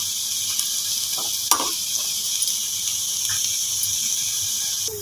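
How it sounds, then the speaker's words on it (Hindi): Pieces fry in a pan on a stovetop, making a steady, fairly loud hiss, with a few brief stirring clinks and scrapes near the start and end. "तो इसके साथ ही हम इधर इनको अच्छे से फ्राई कर लेंगे।"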